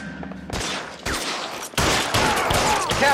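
Gunfire in the video game L.A. Noire, a fusillade of loud overlapping shots that bursts in after a half-second lull, pauses briefly, then resumes as dense sustained shooting through to the end.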